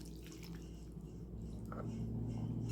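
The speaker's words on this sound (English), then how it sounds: "I will be pouring over the raspberry chipotle sauce over the fried chicken" Raspberry chipotle sauce poured over fried chicken, a soft, quiet wet drip and squish of thick liquid landing on crispy pieces, steady and close with no talking.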